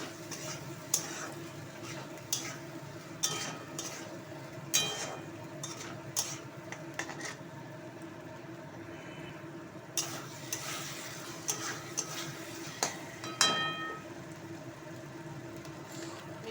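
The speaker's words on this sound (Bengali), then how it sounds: "একটু জল দিয়ে দেবো দিয়ে কষাবো" Soybean and potato curry being stir-fried in a pan, with a steady low sizzle and scattered spoon scrapes and clinks at irregular intervals, close and fairly quiet.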